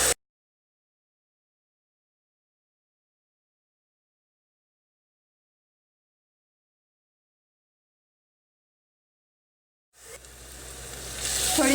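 Spices sizzle in a hot pan as they are stirred for a kaddu (pumpkin) salan; near silence gives way to a sudden, close frying hiss that builds steadily over the last two seconds.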